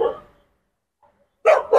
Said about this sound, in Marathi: सगळे कुत्रे नको यायला, आता मला वाटतं निघावं लागेल इथून